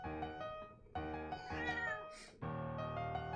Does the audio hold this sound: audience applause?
no